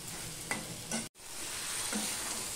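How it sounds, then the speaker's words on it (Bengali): Spice masala sautéing in oil while being stirred, a close steady sizzle with a few scraping stir strokes and a brief cut midway. "দিয়ে আমি আরো কষিয়ে নেব যতক্ষণ না মশলার গায়ের থেকে তেল সরে যাচ্ছে"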